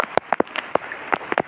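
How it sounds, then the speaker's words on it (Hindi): Rain at a bird market in Karachi lands as separate close, sharp drops tapping irregularly on a nearby surface, about a dozen distinct hits with no voices. "बारिश"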